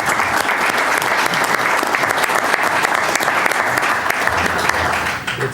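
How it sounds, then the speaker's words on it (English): Council meeting audience clapping after a voice vote, a loud, dense and sustained round of applause from a room full of people, steady throughout with faint crowd voices beneath. "let's clap"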